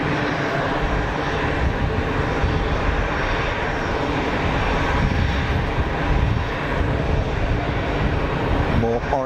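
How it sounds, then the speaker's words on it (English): An easyJet airliner on short final at Geneva Airport passes close, a loud, broad jet roar that stays steady throughout, with a voice talking briefly near the end. "Orange action on short final, easyJet over the numbers."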